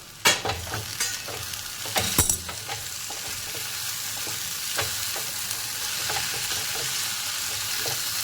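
Spring onion greens sautéed in a pan for a dry Marathi-style bhaji, with steady close sizzling and a few sharp scraping stirs early on, then a continuous frying hiss with no talking.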